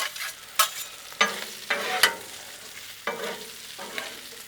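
Bacon fries on a Blackstone griddle turned down to almost low, a steady close sizzle broken by about six sharp bursts of spatula scraping and turning.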